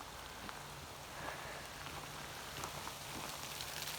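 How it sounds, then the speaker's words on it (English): Hail falling outdoors beside a house garage, a dense, even patter of many small impacts that stays soft and steady throughout, with no talking over it. "Hailing."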